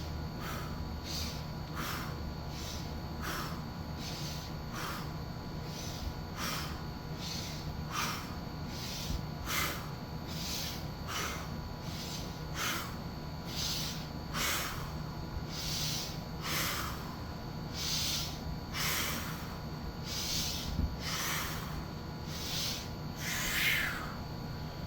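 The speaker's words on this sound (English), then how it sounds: "Breathe it in." Deep rhythmic breathing during a workout on a vibrating machine, sharp nasal inhales repeating about every second and a half over a constant mechanical hum, close to the microphone.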